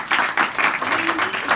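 A congregation in a church service breaks into brief, dense applause, a fairly loud rush of many hands clapping that comes in a few pulsing surges over a short moment.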